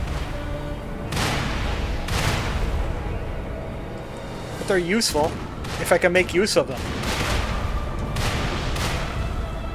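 Cannons in the video game Lies of P boom repeatedly, heavy shots going off at irregular intervals with a few sharp bursts in quick succession, while someone talks over them.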